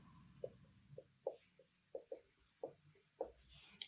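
Pen strokes on paper while a maths solution is written out by hand, a faint, irregular series of short close scratches and taps with no talking.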